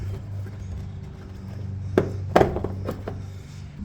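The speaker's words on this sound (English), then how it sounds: "I'm going to push in on this tab and then push the light through the bumper" A license plate light pushed out through a truck's plastic rear bumper during removal, giving a few sharp plastic thunks and clicks close by over a low steady hum, with no one talking.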